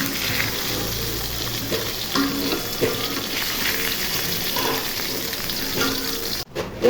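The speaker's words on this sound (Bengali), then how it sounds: "মাছ ভাজা হয়ে গেছে, এখন মাছগুলো উঠিয়ে নিব।" Silver carp pieces rubbed with turmeric and salt fry in hot oil, a loud, dense, continuous sizzle close up, with faint scraping of utensils and a brief clatter near the end.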